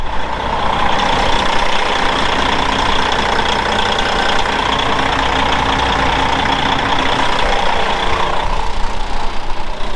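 A 1999 Kenworth W900L diesel truck idles steadily while warming up, with a loud, continuous close-up engine rumble and an even, unbroken drone that runs alone for the full length without any voices.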